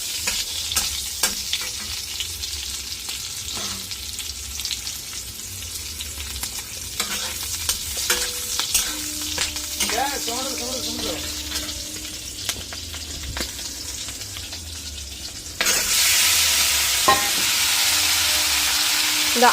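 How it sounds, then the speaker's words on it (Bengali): Green chilies frying in a hot pan give a steady, close sizzle with intermittent stirring clatter, swelling into a louder hiss near the end. "কাঁচা লঙ্কাটা ভালো করে ভেজে নেব"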